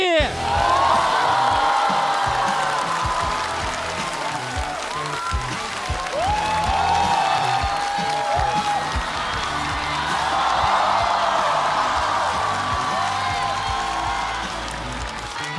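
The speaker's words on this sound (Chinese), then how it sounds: "掌声有请林简七。" A studio audience at a televised Chinese stand-up comedy competition claps and cheers steadily for about fifteen seconds, with scattered whoops and shouts and a swell of applause near the end.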